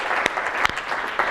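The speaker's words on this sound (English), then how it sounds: "let's give them a round of applause" Audience applause at a targeted-talks event in DC, a dense wash of clapping with a few sharper whoops or cheers cutting through, steady and fairly close for the full moment.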